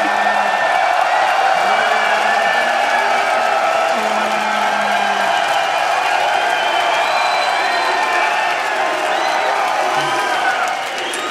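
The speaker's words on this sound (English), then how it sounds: "I don't know if they're clapping for you or for that incredible game." A live esports crowd at a League of Championship Series match claps and cheers after a thrilling game, a loud continuous roar of many voices and hands, with a faint, indistinct voice beneath.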